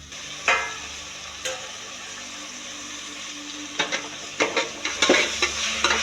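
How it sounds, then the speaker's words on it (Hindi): Marinated masala mutton tipped into a pan of frying onions for Kolhapuri sukkha mutton, giving a steady close sizzle with scraping stir strokes that grow busier and more frequent toward the end, no talk. "जो हमने मसाला मटन हमने किया था मैरिनेट, अभी हम इसके अंदर हम डालेंगे"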